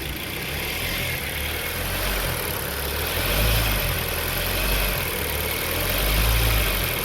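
Warmed-up Hyundai ix35 G4KD diesel engine idling after a full overhaul during a hot oil-pressure check, a steady close low rumble with gentle swells in loudness and no voices.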